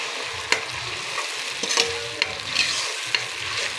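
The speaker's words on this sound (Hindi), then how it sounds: "प्याज में हमने टमाटर ऐड कर दिए हैं।" Tomato puree made from two large tomatoes sizzles with browned onions in a pan, frying steadily up close while a spoon stirs and scrapes with occasional clinks.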